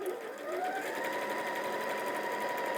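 A sewing machine stitches the top of a fabric bag with a steady, continuous whirring run at moderate level, close by and alone without talk.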